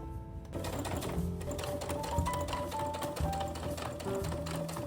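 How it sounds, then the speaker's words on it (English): A sewing machine runs steadily, stitching over existing seams on the straps of a small fabric tote bag, its motor whirring in a continuous, close, moderately loud rhythm without pause. "when you're gonna sew directly on top of the stitch that you created for the straps"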